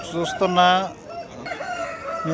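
A rooster crows loudly and close by at a busy village poultry market in Peeleru, one long harmonic call followed by shorter clucking calls, with faint talk in the background.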